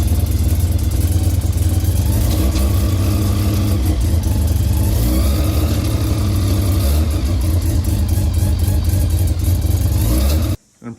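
A Mazda RX3 engine runs after a clutch repair, a loud, steady rumbling idle close by with slight revving, then cutting off abruptly near the end.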